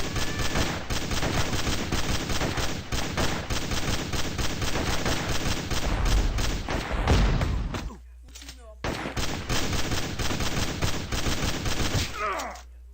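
Rapid bursts of automatic gunfire from a PC video game, dense and loud throughout with a short break near the end, while a Portuguese-speaking player's voice is heard faintly under the shooting.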